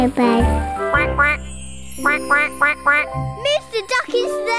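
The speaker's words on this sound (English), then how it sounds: "Listen, I can hear lots of quacking." A cartoon duck quacks in a rapid series of short, nasal, close calls over light tinkling music in a children's animated show.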